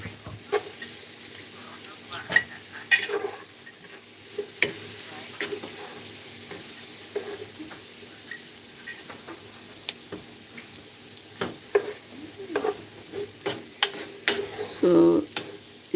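Chopped spring onion frying in a rather dry pot, a faint sizzle under clinks and scrapes of stirring, with scattered knocks and a brief louder rustle near the end.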